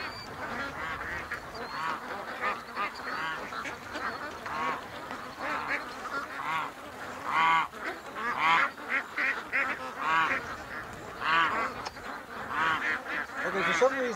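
Ducks call near a lake and reed-choked creek, a dense flock of honking, quacking birds close by, their calls overlapping continuously and rising in bursts throughout.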